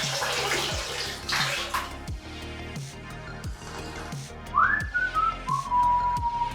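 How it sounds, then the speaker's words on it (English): A large batch of brewed coffee pours into a bathtub with a splashing, rushing stream near the start. The pour gives way to quieter gurgles, and a whistled tune rises over it toward the end. "did I actually waste all that coffee by pouring it into my bathtub?"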